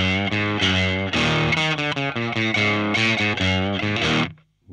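Electric guitar through a Wampler Sovereign distortion pedal plays a thick, saturated chord riff with sustained notes for several seconds, then cuts off abruptly into near silence; no voices.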